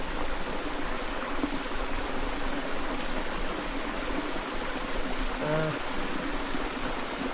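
A deep mountain stream on the trail to Sri Pada (Samanala Kanda) flows with a constant, close, full rushing hiss that carries on without a break.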